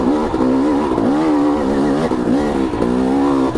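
A KTM 250 XC dirt bike engine cruises in second gear on a trail with switchbacks, a loud, close, continuous two-stroke drone whose pitch rises and falls gently with the throttle; no talking.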